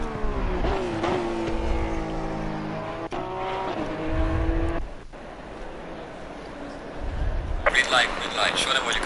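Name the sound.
race car engines in Assetto Corsa Competizione video game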